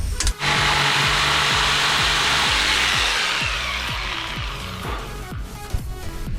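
Wood cut to length with a power saw while building the frame for a DIY camper van conversion, a steady loud whine from start to finish with a rhythmic pulsing beneath it, and no voices.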